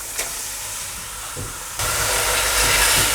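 A steady hiss suddenly jumps louder partway through, becoming a bright, constant sizzle as chicken is dropped into hot oil for a Lahori chicken curry.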